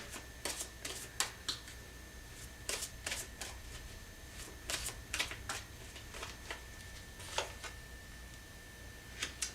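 Tarot cards are shuffled and drawn in quick, crisp riffling bursts and light flicks, repeating in clusters and faint against a quiet room.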